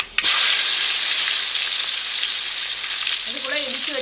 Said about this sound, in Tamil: எண்ணெய் நல்லா சூடாயிடுச்சு வெந்தயம் சேர்த்துக்கலாம் வெந்தயத்துக்கு கூட கருவேப்பிலை சேர்த்துக்கலாம்